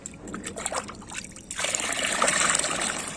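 Water is poured from a container onto crushed soapnuts for a garden spray. A soft trickle comes first, then a steadier, louder pouring splash, close and without speech.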